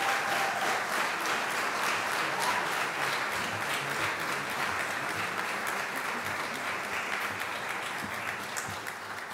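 Sustained applause from an audience at a university 50th anniversary celebration, steady and dense clapping filling the room, tapering slightly toward the end.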